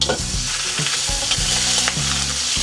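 Ground beef fries with onion, garlic and chili for ampalaya con carne, giving a loud, continuous sizzle with repeated scraping stirs over a low, steady humming drone.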